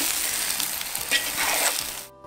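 Zucchini, courgette and bell pepper sizzle loudly in a hot kazan with potato seasoning, with steady frying hiss and a few scraping stirs, the sizzle cutting off near the end.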